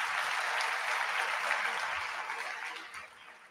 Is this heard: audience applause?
yes